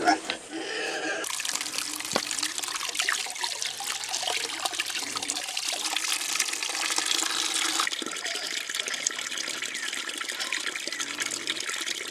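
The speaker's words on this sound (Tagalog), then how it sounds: "Mag-igib muna tayo ng tubig pang paligo sa kanila at inumin na rin." Water being fetched for bathing and drinking runs and splashes in a steady, fairly loud broadband rush that continues for the whole stretch, with a slight change in texture partway through.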